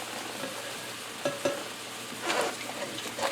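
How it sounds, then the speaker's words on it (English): Cream cheese stirred in a hot pan while making chipotle steak fajitas, a steady soft sizzle with occasional scraping clicks of the utensil, close and moderately quiet, no talking. "let's mix it up while the pan is hot"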